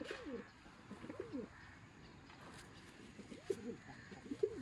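Soft, repeated coos from several domestic pigeons, fancy birds kept by a hobbyist, come in short rolling phrases over a steady low background murmur, fairly close and moderately quiet.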